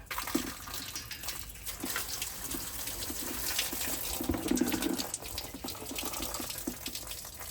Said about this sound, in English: There's some water came out.